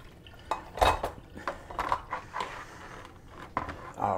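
Boiled purple asparagus is rinsed in a metal pot, giving irregular clanks, knocks and splashes that start and stop.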